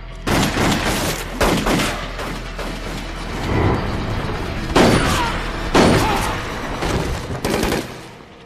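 Loud gunfire echoing through a warehouse during a shootout in a TV crime drama, several heavy bursts of shots at irregular intervals with rumbling reverberation between them.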